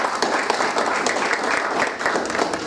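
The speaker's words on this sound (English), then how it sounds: "give yourselves a hearty round of applause" Workshop participants giving themselves a hearty round of applause at a closing session, brisk, loud, sustained clapping from a room full of people, close and unbroken.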